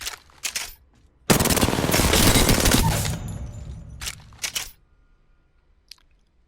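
Apex Legends gunfire during a recoil test: a couple of short bursts, then a sustained loud full-auto spray lasting about two seconds, followed by a few more brief bursts and near silence.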